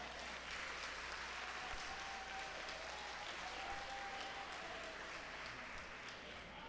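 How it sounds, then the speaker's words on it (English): Steady, distant audience applause filling a large venue after a singer's performance, a continuous wash of many hands clapping at low level throughout. "Get that young man another round of applause"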